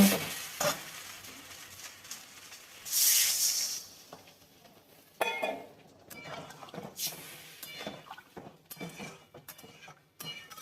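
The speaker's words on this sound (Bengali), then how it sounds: "আলু বেগুন কষা হয়ে গেছে, তেল বেরিয়ে গেছে, এবার আমি জল ঢেলে দিব" A sharp hiss as water is poured into a pan of fried potato and eggplant, followed by scattered clinks and stirring scrapes near the pan.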